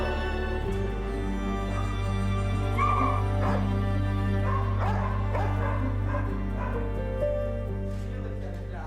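Dogs at an animal shelter in Lviv, Ukraine, barking and yipping repeatedly with whimpers between, close and fairly loud over a steady background hum.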